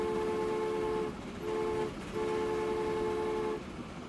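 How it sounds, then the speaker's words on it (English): Freight train pulling into a platform in the video game Transport Fever, giving three sustained tonal horn-like blasts over a steady rumbling engine bed, with no talking. "here comes that train, getting ready to come in and drop off its load of food."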